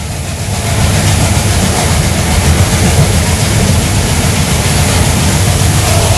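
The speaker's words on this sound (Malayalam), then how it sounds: "ഈ ഒരു ആൽക്കോ ലോക്കോമോട്ടീവിൻ്റെ ശബ്ദവും ICF കോച്ചും അത് വേറെ തന്നെ ഒരു കോംബോ തന്നെയാണ് കേട്ടോ" An ALCO diesel locomotive hauls ICF coaches on the Velankanni to Ernakulam run, a loud steady broadband rumble with rail clatter throughout after a quieter first second, no voices.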